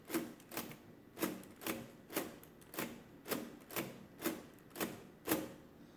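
Keys are pressed on a Comptometer 3D11 mechanical calculator, about a dozen sharp, close mechanical clacks at a steady rhythm, each snapping with a short metallic ring, with no talking.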